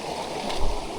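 Calm, clear stream water flowing gently, a soft steady wash with a faint gurgle and splash for about a second, close and fairly quiet.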